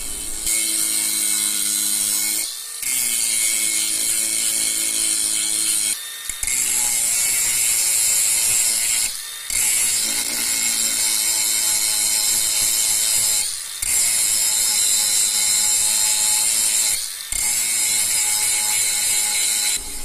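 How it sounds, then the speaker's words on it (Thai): A TEH LG125N cordless 4-inch brushless angle grinder with a thick grinding disc grinds metal in loud sustained bursts of several seconds each, separated by brief pauses, close and with no talk. "มาเริ่มต้นที่งานเจียกันก่อนเลยแล้วกันอ่ะอันนี้ใส่ใบเจีย ขนาด 4 นิ้วแบบหนาเข้าไปนะครับ"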